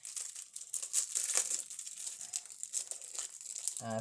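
Small vellum jewelry envelopes crinkle softly when handled, giving quiet, close papery rustles in irregular bursts with a brief louder handling noise at the end.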